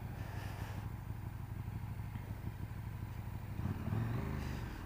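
KTM 1290 Super Duke R, a 2017 model, with its engine pulling hard during a power wheelie in second gear; a fairly faint engine drone swells and rises in pitch toward the end, with wind and clatter.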